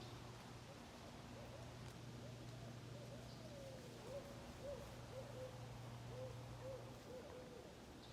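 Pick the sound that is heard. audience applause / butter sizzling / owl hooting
owl hooting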